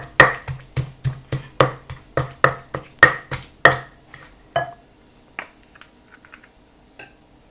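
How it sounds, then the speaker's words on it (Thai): A mortar and pestle pounds sugar and shrimp paste together for mixed som tam, about a dozen sharp, close thuds in a quick steady rhythm that then trail off into a few faint taps. "มาโขลก น้ำตาลกับกะปิเนี่ยให้เข้ากันก่อนนะคะ"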